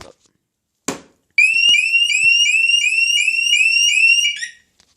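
Scorpio motorcycle alarm set off by its shock sensor after a tap on the bike's side: a tap, then a loud, high-pitched repeating electronic warble lasting about three seconds before stopping.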